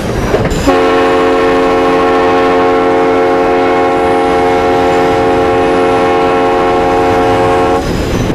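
A train horn blares in one sustained, loud blast lasting around seven seconds before stopping abruptly.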